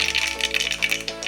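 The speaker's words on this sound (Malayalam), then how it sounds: "വെളിച്ചെണ്ണ വീത്തിൻ്റെ അതിൽ ആദ്യം നമ്മൾ കടുക് ഇടണം." Mustard seeds crackle and pop in hot coconut oil, a quick run of bright, rattling spatters close by and fairly loud, with no talking.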